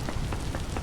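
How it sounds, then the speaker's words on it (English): Rain ambience in the video game Vintage Story: a loud, steady wash of broadband rain hiss that fills the whole short moment, with no talking over it. "there's such a huge difference between the sounds, other ambience, and then the rain"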